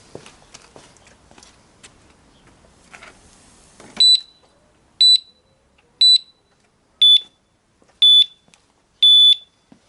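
Some light handling and rustling noises as a motorcycle is moved, then its Radikal RK10 disc lock alarm beeps loudly six times at a steady once-per-second pace, each beep sharp and close.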